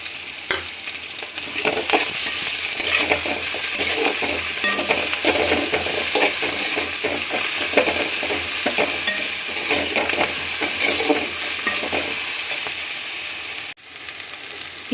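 Chopped colocasia leaves frying in a pan with turmeric, a loud, continuous sizzle with repeated scraping and stirring strokes throughout and no one speaking.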